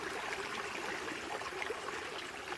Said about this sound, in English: I choose a spot where it's most like a waterfall, and take your cup, dip it in there